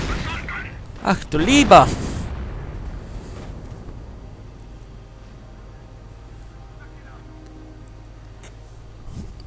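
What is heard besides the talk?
gunfire and grenade explosions in a WWII strategy video game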